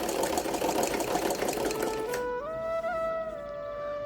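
A sewing machine stitches along a fabric edge with a dense, loud mechanical whir that stops after about two seconds and gives way to a sustained tonal whine.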